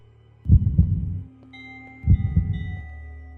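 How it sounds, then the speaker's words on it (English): Two slow, deep thumping heartbeat pulses from the Minecraft Decked Out game, each a muffled double thud, loud and isolated with a faint hum between them. "the heartbeat is getting pretty high"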